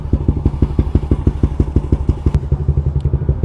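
A Yamaha Aerox 215cc scooter engine heard close and loud, with a rapid, even thumping pulse of firing strokes as it idles and blips.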